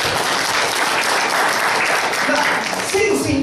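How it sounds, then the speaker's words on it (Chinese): A church congregation bursts into loud, continuous clapping during a worship service, with voices mixed into the applause. "拍手给上帝吧"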